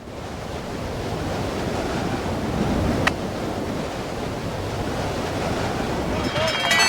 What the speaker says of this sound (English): This strong crosswind will give the skiers a hard time.